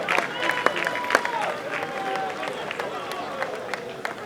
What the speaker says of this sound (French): Est-ce qu'on peut applaudir très très fort pour la carrière, pour la vie